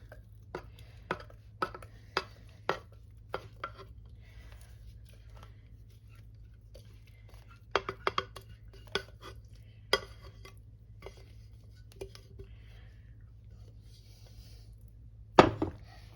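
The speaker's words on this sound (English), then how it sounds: "Then you want to mix it all around and get all that goodness all over." Cooked pasta being stirred into cheese sauce for baked mac and cheese, with soft scattered clinks and scrapes of a utensil against a pot or dish over a low steady hum, one louder knock near the end.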